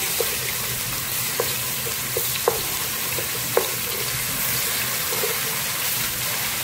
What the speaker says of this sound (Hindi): अब इसमें 2 टेबलस्पून जिंजर गार्लिक पेस्ट शामिल करेंगे। इसको फ्राई करेंगे।